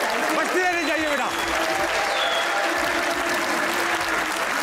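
A studio audience claps for a guest's arrival on a Pakistani TV comedy talk show, sustained loud applause throughout with a voice talking over it partway.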